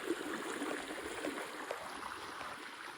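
Clear water flows steadily beneath a small bridge, a soft, continuous trickling and rushing stream sound heard fairly close and alone at low volume.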